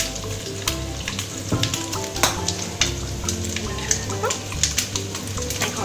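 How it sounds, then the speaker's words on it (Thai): Shallots stir-fried in rendered pork fat for Taiwanese braised pork rice, a loud close sizzle with steady frying crackle and repeated scraping stirs, a faint dog sound briefly in the background. "พอใส่หอมแดงลงไปนะคะ เราก็ผัดคลุกเคล้าให้เท่ากันนะคะ"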